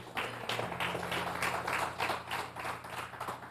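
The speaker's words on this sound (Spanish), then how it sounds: "Dale un aplauso al Rey de Reyes por eso." A church congregation applauding, a steady spread of many hands clapping at moderate distance, sustained throughout with a low hum underneath.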